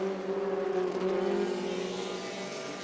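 A Brabham BT35 race car runs on a circuit at Virginia International Raceway during an SVRA vintage race, its engine a steady, loud drone with a strong, even pitch that eases off slightly as it goes.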